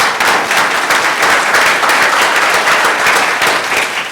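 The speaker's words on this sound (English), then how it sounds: "How about a clap for Verima?" A forum audience applauds steadily, a dense and loud wash of many clapping hands that keeps an even level throughout.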